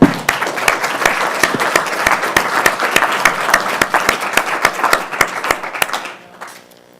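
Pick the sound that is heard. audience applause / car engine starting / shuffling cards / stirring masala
audience applause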